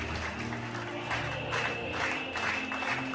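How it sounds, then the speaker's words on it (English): Simulated arena crowd in a WWE wrestling video game, a continuous roar of cheering and clapping that swells and ebbs in waves with a faint musical tone running through it, steady and moderately loud. "The crowd trying to get Fish to rally back in this matchup"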